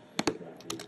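Typing on a computer keyboard, a quick run of sharp, close keystrokes in two small clusters, clear and without talk.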